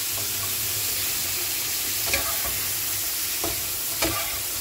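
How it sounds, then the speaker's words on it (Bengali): Red prawns fried lightly in a little oil in a home kitchen pan, a steady close sizzle with a few soft stirring knocks and scrapes, no talking. "অল্প তেলে জাস্ট বলতে পারো হালকা করে ভেজে নেওয়া"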